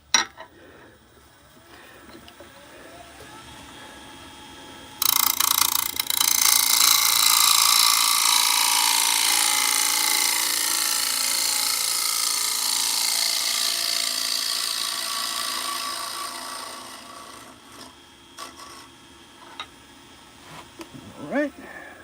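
A wood lathe's large cutter head turns a cracked log, starting abruptly as a loud, steady, hissing cutting roar. It runs about twelve seconds, then tapers off, with a voice speaking around it.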